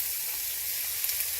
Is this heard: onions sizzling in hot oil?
yes